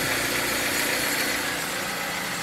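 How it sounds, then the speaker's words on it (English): A steady, rumbling engine of a 2011 Dodge Avenger idles continuously with no voices, a constant mid-to-low drone holding at even loudness throughout, while its charging system produces no charging voltage. "We can hear that the engine is running."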